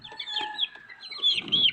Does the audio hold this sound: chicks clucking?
yes